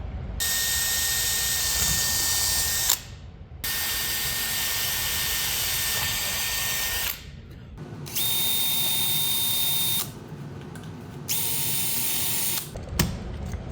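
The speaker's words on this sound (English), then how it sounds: "I'm going to drill an even smaller transfer hole." A power drill whines in several sustained bursts while drilling a small transfer hole in a baritone guitar build, stopping briefly between each run, close and loud with a steady high-pitched tone.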